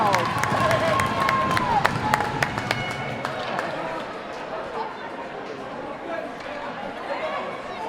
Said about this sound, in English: As Chauncey makes a save, much to the applause of the crowd.